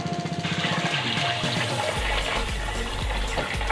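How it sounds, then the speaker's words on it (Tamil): Water pours into a cooking pot holding rice, about eight measures added, a steady splashing gush close by with no talking. "இதில் அப்படியே டபுள் மடங்கு 8 உலக்கு தண்ணி இதில் சேர்த்துக்கலாம்"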